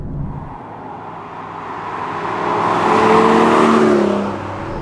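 A 2011 manual Aston Martin V12 Vantage accelerates hard, its engine note rising and swelling in loudness to a roaring peak before easing slightly, heard from inside with no talking.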